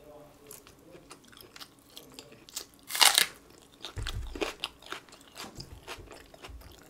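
Crunchy bites and chewing of fried chicken eaten with raw green onion, one sharp crackling bite followed by softer chewing, close and intimate, with quiet speech around it.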